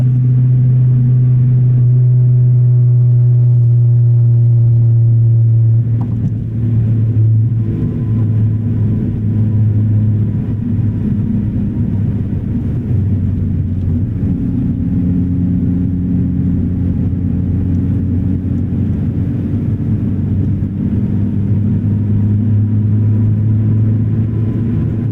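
A light Honda Civic Si coupe accelerates hard from inside the cabin, its engine note climbing steadily in pitch before a gear change around six seconds, then pulling again with a loud, continuous rumble and no talk.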